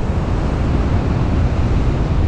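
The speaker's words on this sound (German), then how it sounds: "Die Flut, die kam jetzt relativ schnell" Waves of the incoming tide wash onto Plage Blanche on Morocco's Atlantic coast, a steady, loud broadband roar of surf mixed with wind buffeting the microphone, continuous and close throughout with no talk.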